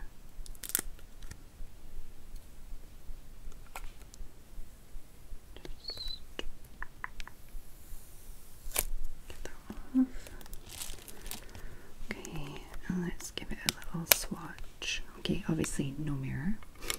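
Fingers pick at and peel the sticker seal on Revlon makeup packaging, giving close, soft crinkles, tears and scratchy rustles that grow busier toward the end, mixed with quiet whispered speech.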